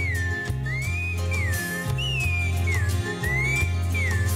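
A smooth, gliding human whistle imitates a zorzal thrush's song, its slow wavering phrases carried over an upbeat folk accompaniment with a thumping bass.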